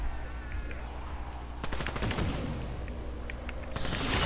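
Rapid gunfire rattles through a zombies-mode video game in a pyramid room during a storm bow upgrade, with dense bursts of shots, steady and close, building into heavier volleys toward the end.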